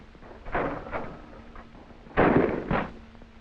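Shotgun fire on a military skeet range, with several muffled, distant-sounding reports separated by pauses and a louder pair of blasts near the end, heard with no talking.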